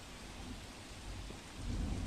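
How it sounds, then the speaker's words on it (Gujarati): Heavy monsoon rain pours steadily in Valsad district, Gujarat, a dense continuous roar that swells louder toward the end, with no voices. "વલસાડ જિલ્લામાં વહેલી સવારથી ધોધમાર વરસાદ વરસી રહ્યો છે।"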